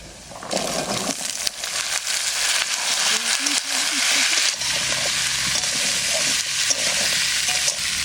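Loud sizzling as vegetables hit a hot pan, settling into a continuous fry with stirring and clattering.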